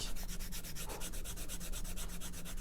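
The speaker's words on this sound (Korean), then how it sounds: "여기 합체된 부분을 단면을 매끄럽게 사포로 긁어 주시면 됩니다." Sandpaper rubs back and forth along the joined cut edge of a leather passport case, a quiet, rapid, even rasping with about twenty quick strokes and no talk.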